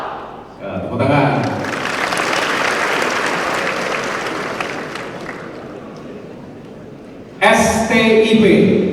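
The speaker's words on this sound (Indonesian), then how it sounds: "Tepuk tangan." Sustained audience applause from cadets at a transport college graduation ceremony, a dense wash of clapping lasting most of the stretch, with a louder burst of voice at the end.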